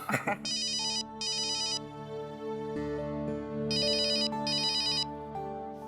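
Telephone rings in repeated electronic bursts, two quick rings, a pause, then two more, loud and close in a family home, with soft background music running underneath.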